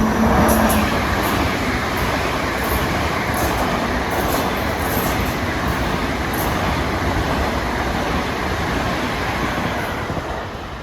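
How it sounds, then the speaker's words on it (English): LIRR diesel train 1732 runs non-stop from New York to Huntington through Carle Place and Mineola on a damp day, a steady loud rumble of engine and rolling cars passing close by. "approaching is train 1732, en route from New York to Huntington, non-stop"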